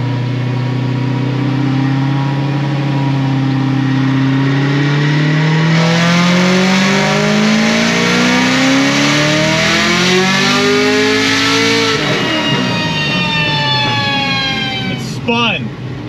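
A 1100 HP Procharged Chevrolet Camaro ZL1 roars through a continuous full-throttle pull, its engine pitch climbing steadily with supercharger whine, very loud and close, ending in a sharp lift-off.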